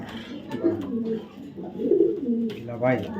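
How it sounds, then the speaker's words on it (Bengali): A 2022 female racing pigeon coos in soft, throaty bursts at close range, mixed with people talking nearby. "একটা মাদি কবুতর কবুতরটা অনেক ছটফট করে"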